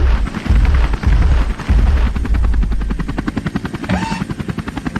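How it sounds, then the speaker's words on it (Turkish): A helicopter's rotor thumps steadily and loudly throughout, with a brief rising whine near the end. "gördüğünüz gibi Hugit burada yine helikopterle bakın Hugit'e saldırıyorlar arkadaşlar"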